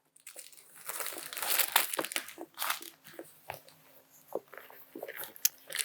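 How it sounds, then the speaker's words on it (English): Packaging material pulled from a Coach bag box during an unboxing, with crinkly paper rustling and crumpling in uneven bursts, close and fairly quiet with no talk. "So we've just got some packaging material."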